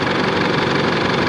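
A 4JJ1 diesel engine in an Isuzu Alterra, with original belts, runs at a steady idle close by, giving a continuous low rumble with no one talking.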